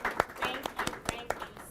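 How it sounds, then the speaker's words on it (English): The audience at a Women's History Month panel gives a light round of applause, a handful of separate, uneven claps that sound fairly close and sparse, with some voices mixed in. "can we please give these lovely ladies a round of applause?"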